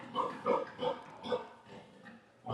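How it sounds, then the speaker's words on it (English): Pigs in a barn grunt together, about five rounded, low snorting bursts in an uneven rhythm, fairly close but moderately quiet. "There's a pig meeting."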